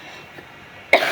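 A single short cough breaks a quiet, low background near the end.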